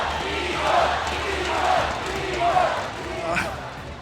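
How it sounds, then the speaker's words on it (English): Crowd cheering at an esports match, the Mobile Legends M5 knockouts between ONIC and BLCK, swelling in repeated waves under a caster's voice talking over it. "They're cheering for you."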